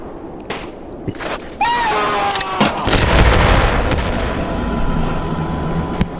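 Cluster grenades going off in the VR game Animal Company on the ski map, a run of booming, crackling blasts with a sharp onset and a long rumbling tail.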